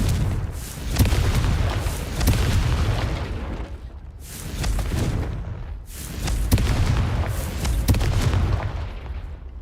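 Confringo, an explosive fire spell in Hogwarts Legacy, cast repeatedly: a series of loud booming blasts, roughly four, each swelling and then decaying into a broad roar, with short gaps between them.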